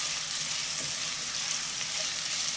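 Carrot frying in a non-stick pan gives a steady, close sizzle with a broad hiss that keeps an even level throughout and cuts off abruptly at the very end.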